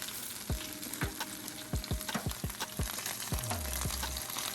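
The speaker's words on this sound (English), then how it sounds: "whenever they're sizzling in the oven, they're supposed to be doing that" BBQ chicken wings sizzle in an oven, with a steady hiss broken by frequent sharp pops and crackles at an uneven rhythm, heard alone and fairly quietly.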